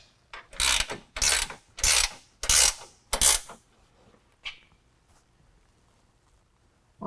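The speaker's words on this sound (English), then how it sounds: "next we're going to go ahead and tighten up this one with a 3/4 on each side." A ratchet wrench with a 3/4 socket tightens lift kit bolts on a 2018 Jeep JL 2 door, giving five loud, close bursts of rapid ratcheting clicks in a steady rhythm, then a few faint isolated clicks, with no talking.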